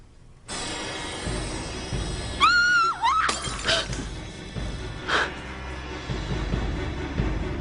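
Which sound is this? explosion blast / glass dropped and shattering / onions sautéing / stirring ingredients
glass dropped and shattering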